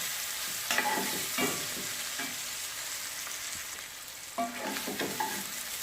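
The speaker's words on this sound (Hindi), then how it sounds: "हमारी शिमला मिर्च भी फ्राई हो चुकी है।" Capsicum frying in a pan for chowmein, a soft continuous sizzle broken by a few clattering stirs and scrapes of a utensil against the pan, close and fairly quiet with no talk.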